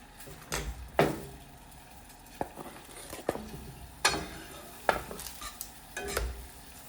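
Chopped onion sizzles in olive oil in a pan, a quiet crackling hiss broken by a series of sharp utensil scrapes and stirring clacks at irregular intervals.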